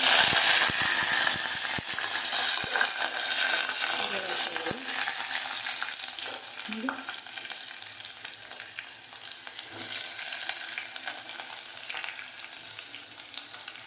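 Chana dal, mustard seeds and curry leaves frying in hot oil, giving a steady, close sizzle with faint clicks and scrapes of stirring throughout.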